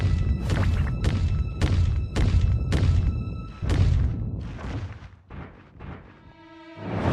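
Heavy thudding stomps of an ogre pounding around a room, a steady run of loud booming impacts that slow and scatter near the end, with no voices.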